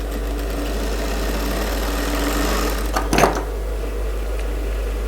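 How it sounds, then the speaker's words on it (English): A sewing machine runs steadily while stitching a shape onto a woman's suit, a continuous humming drone with a brief clatter near the end, no voices. "you are going to sew on your shape"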